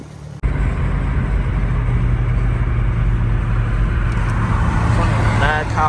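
Infiniti G35x fitted with an ISR single exit exhaust, a steady deep engine drone with road rumble from a car driving on a highway, loud and continuous after a brief gap at the start, with a faint voice late on.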